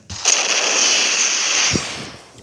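Rapid gunfire from shooting in the video game Hypper, a dense burst of shots lasting about two seconds, loud and close with no talking.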